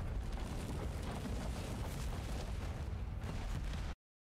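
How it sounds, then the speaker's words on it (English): Explosions in a Company of Heroes 3 gameplay trailer roar as a dense, continuous wall of booming blasts and rumble, loud and sustained before cutting off abruptly. "I'm a little worried about the explosions though"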